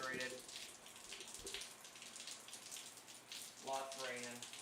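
Rain pattering steadily in an art studio, a soft continuous hiss of drops with faint voices briefly surfacing at the start and end.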